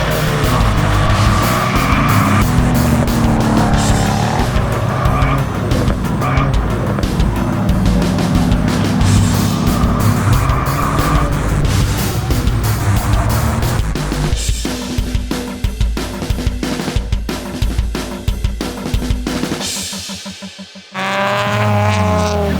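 Red race car driving fast on a track, loud sustained engine roar with rising and falling revs, tires squealing through corners and rapid gear shifts near the end.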